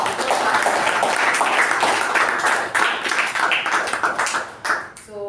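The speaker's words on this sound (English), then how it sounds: "can we have a thunder round of applause?" Members at a club meeting break into applause, a lively round of clapping with individual claps standing out, fairly close and loud before tapering off at the end.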